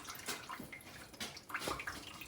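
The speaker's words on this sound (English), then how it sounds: "Some more coolant coming out." Coolant drains out of a Ford Ka cylinder head during a thermostat replacement, a faint, continuous splashing trickle of liquid with small gurgling surges, close by and heard alone.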